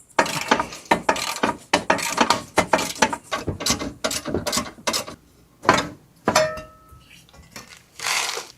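Metallic ratcheting and clinking as bolts are removed from the oil filter housing on a 6.0 Power Stroke diesel truck, rapid bursts of clicks close up with short pauses between them.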